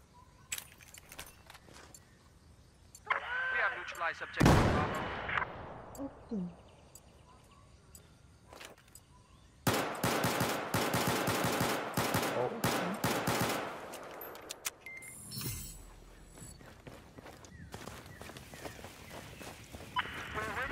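Gunfire in a video game: sharp bursts and a sustained rattling volley crackle loudly across the clip, with quieter stretches of game noise in between and laughter from the player.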